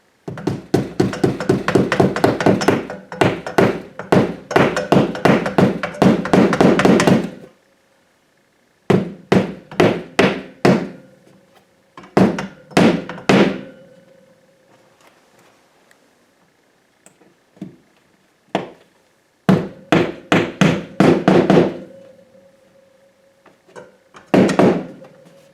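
Hammer tapping a molly anchor into a wall while mounting a tool holder, rapid runs of sharp close taps in bursts, with quiet gaps and a few isolated knocks between.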